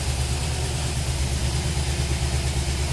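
A Rover V8 engine fitted in a 1953 Riley RMF with a quad-carburettor setup, idling steadily and loudly at close range with an even low rumble and no talk.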